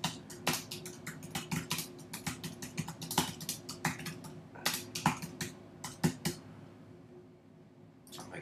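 Typing on a computer keyboard, quick irregular bursts of clicking keystrokes close up with short pauses between, alone without talk.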